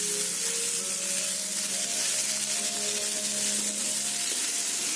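Mashed potato for batata vada is stirred in a hot pan, giving a steady close sizzle with soft scraping of the spoon and no voices.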